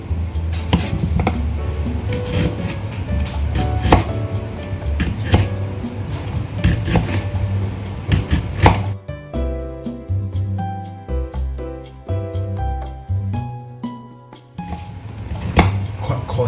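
Ginger chopped with a knife on a board in a kitchen, rapid steady knocks for about nine seconds, then sparser clatter of utensils and pans.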